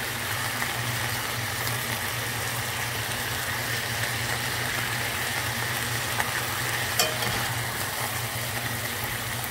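Eggs fry in a pan for a New Mexico cowboy brunch, giving a steady, close, continuous sizzle with no talking and only a faint low hum beneath.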